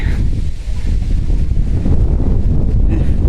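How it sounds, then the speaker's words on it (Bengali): Strong wind buffets the microphone without a break, a heavy low rumble with a steady rushing hiss over it. "এই বাতাস কত সুন্দর বাতাস"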